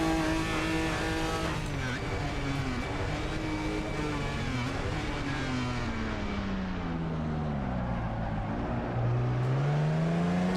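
Jaguar E-Type vintage race car engine in the Assetto Corsa racing game, a loud, steady in-car drone rising and falling through gear changes, with other cars close by throughout.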